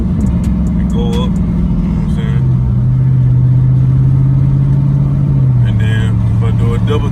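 The 392 engine of a Dodge Charger Scat Pack rises on a light throttle tap and settles into a steady idle-like drone, heard from inside the car, with someone talking over it.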